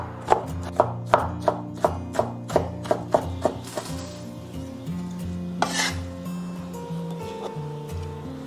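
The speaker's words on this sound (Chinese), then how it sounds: "这个时候我们来切酸菜" Pickled Chinese cabbage being cut into thin shreds on a chopping board: a quick, even run of about a dozen close knife chops, then a few slower, scattered cuts.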